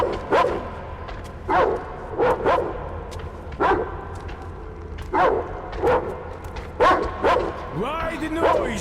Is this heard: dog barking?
yes